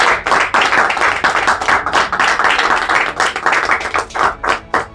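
An audience applauding at a roundtable event for International Women's Day: dense, steady clapping from many hands, loud and close, with a few louder individual claps near the end.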